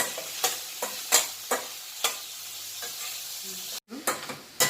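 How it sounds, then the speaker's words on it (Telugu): Onion, carrot and curry leaves are stir-fried for Bombay street-style vegetable fried rice, a steady sizzle punctuated by a series of loud, close spatula scrapes and knocks against the pan, with one brief cut to silence. "ఆనియన్, క్యారెట్ ఇవన్నీ వేసి ఇప్పుడు చక్కగా మనం దీన్ని ఫ్రై చేద్దాం అన్నమాట."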